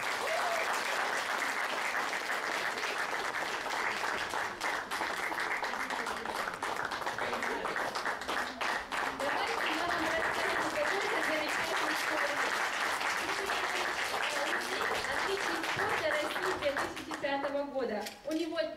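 Sustained audience applause at a pedagogical college arm-wrestling championship, dense clapping filling the room for most of the stretch before thinning out near the end, with crowd murmur mixed in.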